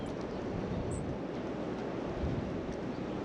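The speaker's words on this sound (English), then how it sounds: "you can hear the wind just blowing through the valley" Cold wind rushes steadily through a snowy valley over a pasture, a broad, loud, continuous roar with slight gusting swells and no voices.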